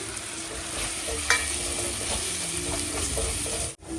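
Steady sizzling and frying of tomato with chilli powder, coriander powder and garam masala in a pan, with occasional stirring scrapes, continuous and fairly close, no voices.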